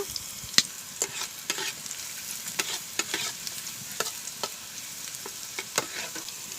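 Vegetables for a broken-wheat daliya pulao being stirred and browned in a pan: a continuous soft sizzle with frequent light scraping and tapping strokes, close by and without talk.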